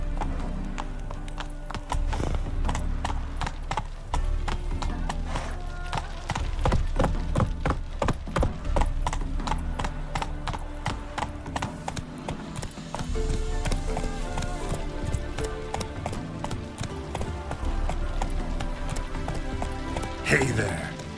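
Hoofbeats of a horse galloping in The Witcher game, quick and loud up close, slowing and picking up again, with a neigh and some speech mixed in.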